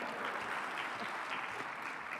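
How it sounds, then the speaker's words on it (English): An audience gives a speaker a dense, continuous round of applause, a steady wash of many hands clapping, heard from somewhat far back in a large hall, with no voices over it. "Dr. Kaberuka is waiting for applause before he comes up."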